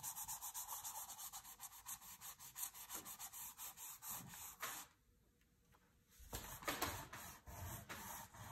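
An eraser is rubbed clean in quick rhythmic back-and-forth strokes, a faint close scrubbing that pauses for about a second before resuming at the same pace.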